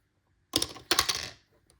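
Monopoly dice dropped through a homemade dice tower make two quick clattering bursts, then a brief settling rattle, close and clear with no speech.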